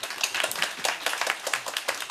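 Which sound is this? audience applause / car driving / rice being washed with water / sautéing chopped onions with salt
audience applause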